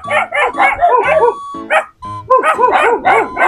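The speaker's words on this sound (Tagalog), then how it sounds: "May mga aso." Several dogs bark loudly and close by in rapid, overlapping bursts, with one brief pause before the barking starts up again.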